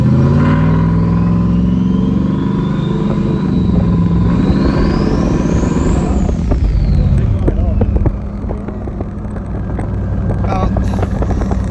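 A turbocharged Hemi V8 in a RAM 1500 pickup revs up to about 3,800 RPM with a loud, close rumble and a rising turbo whine that peaks and then falls away, ending in a chugging idle.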